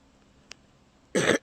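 A single short, loud cough from a person outdoors on a humid woodland walk to a fishing hole, preceded by a tiny click and otherwise quiet surroundings.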